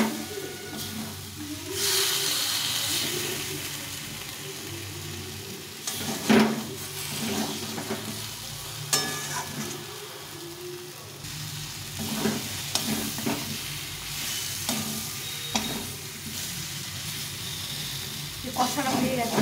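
Potato masala for aloo dum sautéing with ground melon seed and cashew paste in a pan: a continuous hiss of frying with repeated stirring scrapes and occasional sharp clinks, while a voice talks faintly underneath.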